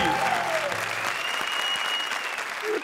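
Studio audience applause on a Hindi comedy show fills the whole stretch, a dense, loud, continuous clatter of clapping with faint tonal music notes sliding through it.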